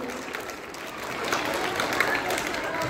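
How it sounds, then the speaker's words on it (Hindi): Children in a general-knowledge quiz session clap for a correct answer, a short burst of crowd applause that swells slightly, with a few voices underneath. "जोरदार ताली होना चाहिए।"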